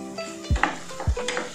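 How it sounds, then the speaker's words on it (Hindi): Two dried red chilies frying in hot oil for bagara baingan garnish, a brief sizzle under two quick low knocks of a spoon against the pan. "थोड़ा सा भून लेते हैं।"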